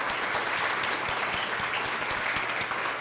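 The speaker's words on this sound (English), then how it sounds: "Let's give a round of applause." A conference audience at a McGill keynote and panel session gives a round of applause, a continuous wash of many hands clapping at a moderate, even level with no talking over it.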